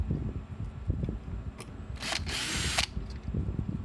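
A power drill backs out Phillips screws holding the transformer in a Gallagher S20 or S50 fence charger, one short whirring burst of under a second over quiet handling clatter and small knocks.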